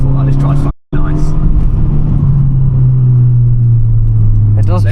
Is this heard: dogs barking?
no